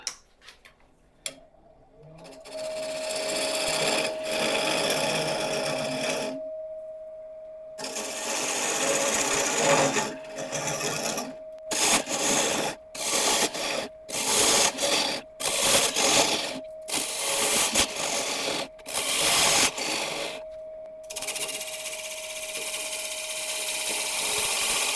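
A false acacia burl being hollowed on a wood lathe gives a steady near whir with a faint tonal hum, cut into by repeated short gaps and bursts as the tool bites and lifts, with no talking.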